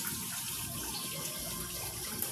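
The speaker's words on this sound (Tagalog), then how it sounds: "Malapit na mapuno tubig." Tap water pouring steadily into two drums being filled at night, a continuous close splashing gush with no voices.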